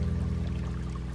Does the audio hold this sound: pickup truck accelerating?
no